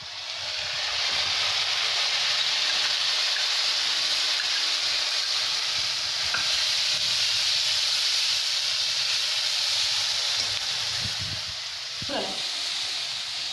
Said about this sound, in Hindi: अब मैं इसमें डालती हूँ ये पेस्ट